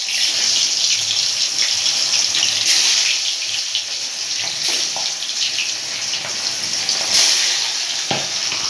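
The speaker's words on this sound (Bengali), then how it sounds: "তেল গরম হয়ে গেছে, এবারে মাছগুলো দেবো" River catfish (magur) sizzle in hot oil in a pan, a steady bright hiss that runs continuously with a few sharper spits and pops, close and even throughout.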